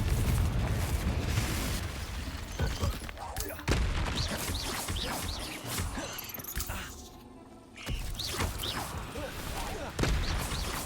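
Repeated loud, booming Confringo fire-spell explosions go off in Hogwarts Legacy, bursting one after another over continuous combat noise, with a brief lull near the end and voices talking in the game.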